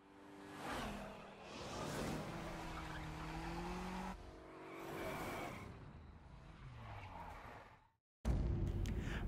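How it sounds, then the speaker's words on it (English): Saleen S7R race car driven in The Crew Wild Run on PS4, engine note rising and falling through gear changes with tyre squeal, steady and loud, cutting out briefly near the end before resuming. "Right, so here we go with the car testing in the SALEEN S7R."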